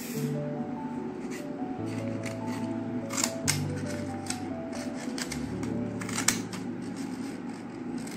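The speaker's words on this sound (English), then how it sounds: "So you need to cut it out. Can you cut it out?" Scissors cutting out a paper picture in a children's activity, repeated snips and crisp paper slicing close by, steady over a soft background hum, with no talk.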